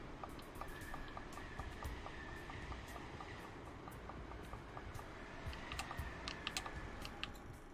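Rapid computer keyboard typing, faint clicking keystrokes in quick runs over a low steady background hum, growing denser near the end.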